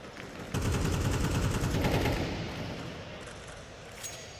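P250 pistol gunfire in a Counter-Strike 2 match at a major esports tournament, heard as a dense burst of rapid shots and impacts that swells loudly, then tails off into fainter game noise.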